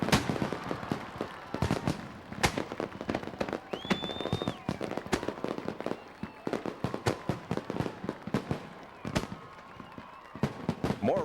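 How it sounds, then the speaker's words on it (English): Dense string of sharp firework and firecracker bangs bursting close by in quick irregular succession, some louder than others, with a brief whistling tone rising midway, used as close-proximity pyrotechnics at rock concerts. "Fireworks used up close to performers and audiences without endangering them."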